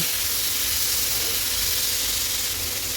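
A splash of water hits hot vegetables cooking with turmeric and salt, raising a loud, steady steam hiss and sizzle that fills the whole moment without pause.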